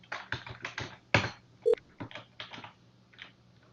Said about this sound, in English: I am going to dial it.